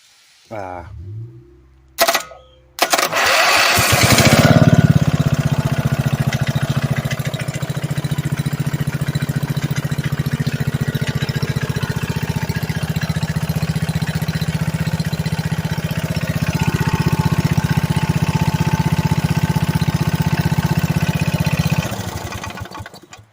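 A homemade horsepower VANKART engine starts after a few brief knocks and then runs steadily at a loud, rough idle for about twenty seconds before cutting off, close to the microphone.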